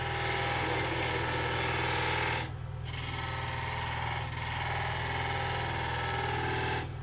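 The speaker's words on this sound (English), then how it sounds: "So I'm just using my spindle gouge now, just off the tip of the tool." A spindle gouge shears wood on a spinning lathe while a goblet is turned, giving a steady loud rasp over a constant motor hum, with brief dips as the tool eases off.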